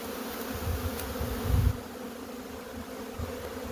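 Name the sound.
honey bees buzzing around beehive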